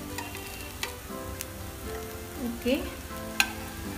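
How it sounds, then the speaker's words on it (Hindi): Potato tikkis for veg frankie rolls fry in a pan with an even, moderate sizzle and a few light clicks, while a voice briefly speaks partway through. "2 मिनट के लिए नीचे से अच्छे से फ्राई करने के बाद हम इसे फ्लिप करेंगे।"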